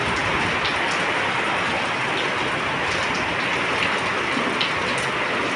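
Steady heavy rain pours down outside in Goa, a dense continuous hiss of drops hitting surfaces with no pauses.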